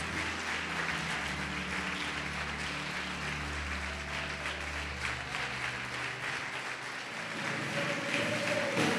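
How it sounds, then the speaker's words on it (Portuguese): Congregation applauding during an evangelical church service, a soft, steady wash of clapping heard at a distance, with low musical tones underneath. "Pode aplaudir e glorificar Jesus por isso"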